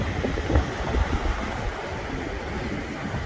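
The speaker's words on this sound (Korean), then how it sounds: "오늘 파도가 꽤 세네요." Strong waves breaking along the Pyeongdae shore on Jeju's coastal road, heard as a steady, fairly close wash of surf and wind with a couple of slightly louder surges early on and no voices.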